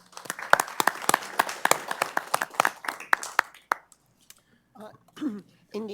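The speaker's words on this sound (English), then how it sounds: "I think Mr. Barry Burton deserves a round of applause for backing us up and helping us out." A small audience at a meeting gives a short burst of clapping, sharp close claps for a few seconds that stop abruptly, followed by faint voices.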